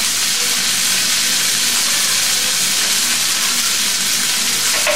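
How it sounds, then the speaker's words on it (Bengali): Cabbage and chopped long beans frying in a pan for a Bangladeshi bhaji, giving a loud, steady, dense hiss of sizzling oil that runs unbroken throughout with no talking. "আর কতগুলা বরবটি ছোট ছোট করে কাটা দিয়ে দিব, দিয়ে ভাজবো"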